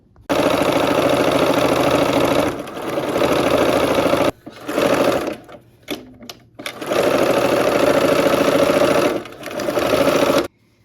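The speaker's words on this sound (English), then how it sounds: "let's go ahead and sew" A sewing machine stitches quilt block seams in long steady whirring runs, pausing briefly several times with short bursts and stops midway before another sustained run, close and clear with no talk.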